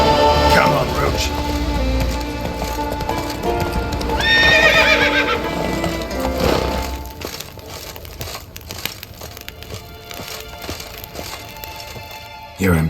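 Horse hooves clip-clopping at a run with a loud neigh partway through, from the mount in The Witcher 3: Wild Hunt, with game ambience continuing after the hooves stop.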